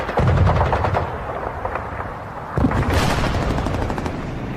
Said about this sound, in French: Les chars du 35e bataillon américain doivent faire face aux tirs allemands